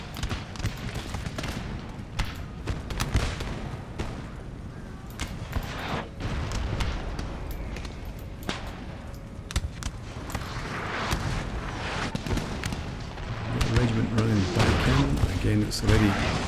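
Cannon and musket volleys in a Napoleonic-era battle in the strategy game Napoleon: Total War, irregular booms and crackling gunfire spread across the whole stretch, with someone talking over the battle noise.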